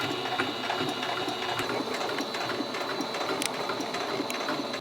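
Close, continuous whir and rapid needle chatter of a sewing machine stitching fabric in a circle, a beginner at the controls, steady and fairly quiet throughout.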